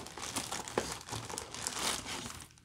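Crinkling plastic packaging as the box of an Okuma Alaris 65 ALS-65 fishing reel is opened, a close, brief rustle with a few sharper crackles and no voices.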